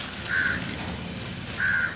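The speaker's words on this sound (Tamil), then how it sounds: "ஒரு காக்கை" A crow caws twice, about a second and a half apart. Each harsh call is fairly clear and close, set against a low, steady background hum.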